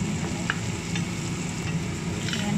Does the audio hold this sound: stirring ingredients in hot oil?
yes